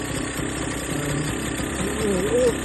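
A small vintage single-gear motorcycle engine runs steadily and labors under heavy load at a bikers meet, a low chugging rumble throughout with some voices faintly mixed in.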